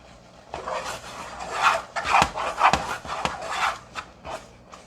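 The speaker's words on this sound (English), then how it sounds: "So I'm stirring it a little bit more just to keep it. I don't want it to burn on the pan." A spoon scraping and rubbing through thick wild-foraged sour orange marmalade in a pan, in irregular strokes with a few sharper scrapes, fairly close and moderately loud.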